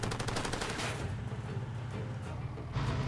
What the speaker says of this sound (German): Gerade auf mich geschossen.